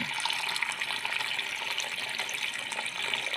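Water pours steadily into a container for making coffee or tea, a continuous bright rushing flow with no break, close and fairly loud, with no voices.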